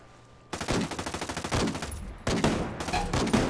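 Rapid automatic gunfire in the tactical shooter Ghost Recon Breakpoint during a Ghost War multiplayer match, loud close bursts of evenly spaced shots in two volleys with a short gap between them, and no speech.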